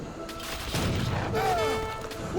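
Age of Empires 3 gunfire crackles in a busy battle mix, a spread of scattered gunshots with booms and clashing effects, moderately loud and with no voice on top.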